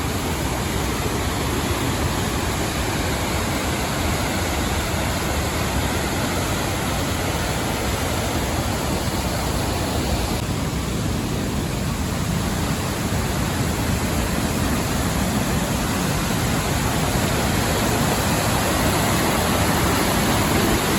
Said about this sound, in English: Now we're at Swallow Falls, which is a big waterfall.